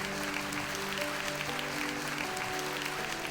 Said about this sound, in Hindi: Shall we give the Lord a big hand clap?